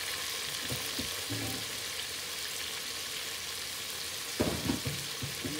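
Sweet peppers and onion hiss and sizzle steadily in a hot pan, with a louder burst of crackling and a few clatters as more go in near the end; no talking.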